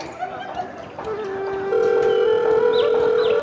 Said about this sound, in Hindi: कॉल जा रही है।